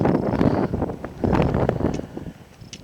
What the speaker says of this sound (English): But I just don't like the wind anymore.